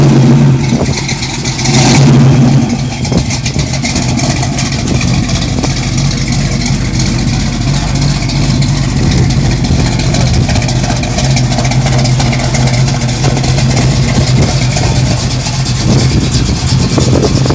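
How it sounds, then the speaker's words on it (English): A Chevrolet Caprice donk on big rims does burnouts on sixes, its engine roaring and revving loudly and continuously up close, with wheel spin and tire noise running under the steady engine drone. "We want to hear them wheels. We're doing burnouts on sixes."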